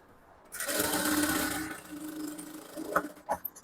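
Sewing machine stitches a halter neck blouse, a fast steady whirring run that starts abruptly and fades after about a second, followed by a few sharp clicks and taps nearby.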